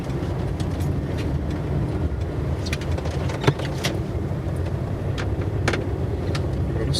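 Steady car engine and road rumble from a driving-lesson vehicle turning left into a parking lot, continuous and close with no talk.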